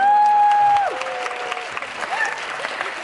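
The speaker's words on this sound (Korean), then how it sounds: "박수 한번 부탁드리겠습니다" Applause and light cheering from a cinema audience at a stage greeting for the Korean film Hero at Lotte Cinema World Tower, dense and fairly close, following a sustained tone and continuing under faint talk.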